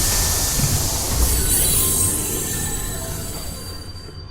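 A train in a video game runs with a loud, sustained metallic wheel squeal over a rumbling rail roar, holding steady before gradually fading toward the end.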